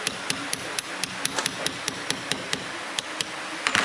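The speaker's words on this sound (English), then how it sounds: "So first we'll drive the pin back down into the chuck." A hammer drives a 2.5 mm pin punch into a Vicmarc woodturning lathe chuck, about sixteen sharp metallic taps at a quick, steady rhythm, close up, with no talk.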